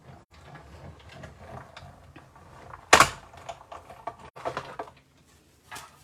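Paper runs through a 3D embossing folder machine, a soft mechanical grinding and clicking with one sharp loud snap midway, followed by scattered clatters and handling noise.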